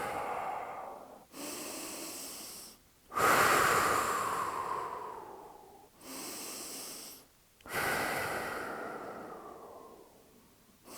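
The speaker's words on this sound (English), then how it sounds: "And then we just count some breaths." Deep, loud breaths held during a hip flexor stretch on leg day, alternating long drawn inhales and exhales with brief gaps, close and breathy with a slight wheeze.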